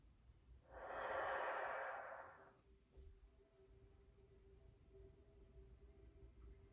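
One long, soft exhale rises and fades over about two seconds during a slow neck stretch, then quiet breathing continues faintly in a calm room.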